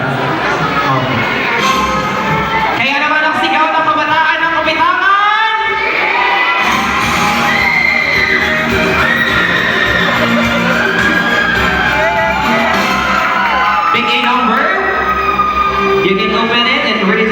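A crowd of young people cheers, whoops and shouts loudly and continuously at a pageant question-and-answer event, with overlapping high yells rising and falling across the whole stretch.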